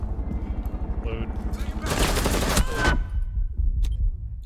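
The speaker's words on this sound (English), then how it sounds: "Who is shooting me?" Gunfire in Rainbow Six Siege during a co-op terrorist hunt: a dense stretch of rapid shots lasting about a second, followed by scattered reports over a low rumbling game background.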